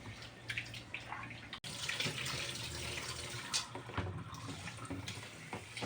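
Tap water runs into a pot of uncooked rice in a home kitchen: a faint, steady rush and splash that keeps on throughout, with brief shifts in the flow.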